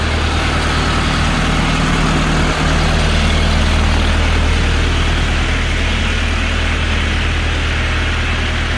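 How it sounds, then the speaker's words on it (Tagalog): A brand new 70-horsepower turbocharged farm tractor with a front loader idles close by, its low, steady engine rumble running unbroken and loud throughout with no talking. "brand new farm tractor with front loader"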